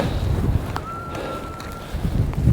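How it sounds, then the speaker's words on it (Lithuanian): Low, rumbling gusts of wind buffet the microphone throughout, with a thin whistle-like tone briefly riding on top. "vėjas pučia kaip aukštai"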